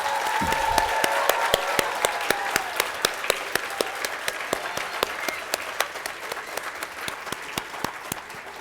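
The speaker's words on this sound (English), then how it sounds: "let's give a roaring applause to the Luke Foundation and the planning committee that made this possible." A crowd claps steadily and warmly, sustained applause that slowly fades a little over several seconds.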